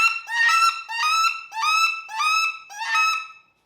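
A Duck Commander wood duck call blown to imitate a flying wood duck gives six close, loud, rising squealing whistles in a steady rhythm, then stops, with no talking.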